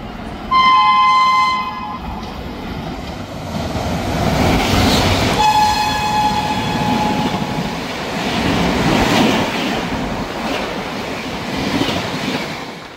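Sealdah–Bikaner Duronto Express 12259 passing close by, opening with a loud horn blast, then a second horn call over the heavy rumble and clatter of coaches rolling past.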